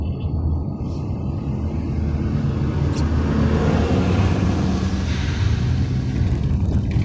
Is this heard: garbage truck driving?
yes